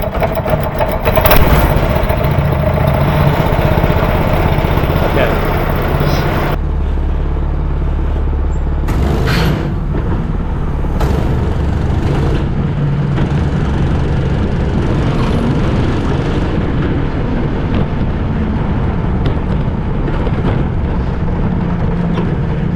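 A small go-kart engine runs steadily through a ride, a continuous loud near drone with a brief shift in tone partway through and no talk.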